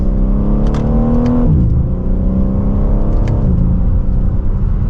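A 2024 BMW M3 CS pulls hard from second gear, its engine note climbing steadily in pitch, dropping briefly at an upshift, then rising again; loud, continuous in-cabin engine and exhaust sound with no talking.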